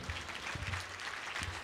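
A church congregation at a Christmas service applauds together, a dense steady patter of many hands filling the space at moderate distance, with a low hum beneath and no speech over it.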